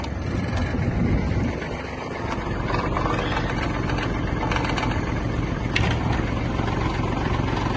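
A Kubota GL-21 Japanese mini tractor's engine runs at a steady idle, a close, continuous mechanical rumble with a few faint clanks on top.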